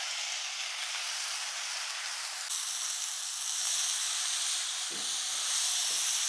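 Masala-marinated chicken tipped into a hot pan sets off a continuous soft sizzling hiss that swells slightly partway through, with a couple of faint low knocks near the end.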